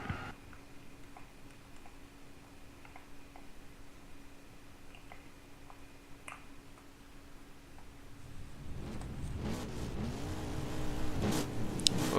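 Race cars in a racing video game rev as the race starts, with faint ticking at first, then engine roar swelling loudly near the end as the cars launch, with no talking.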